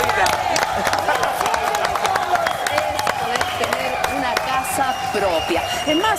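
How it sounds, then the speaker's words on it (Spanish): Studio applause on a Chilean morning TV show, with sharp hand claps ringing out in a busy, bright room while people talk and music plays underneath. "El aplauso de Julita."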